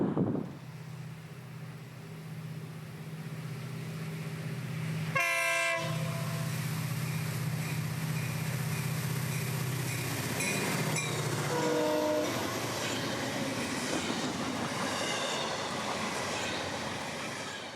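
FEC freight train led by locomotive 432 rolls through Fort Pierce, Florida, at night: a steady rumble of wheels and cars with two strong horn blasts over it, one near the middle and a shorter one later.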